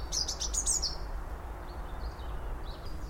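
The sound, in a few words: robins singing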